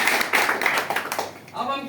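A small group claps briefly in a few uneven bursts during a marketing presentation, then the clapping fades and a voice takes over.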